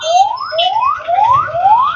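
A loud, close ambulance siren wails in repeated rising sweeps, about four cycles in quick succession, over a low rumble of traffic jammed outside a hospital in Mymensingh.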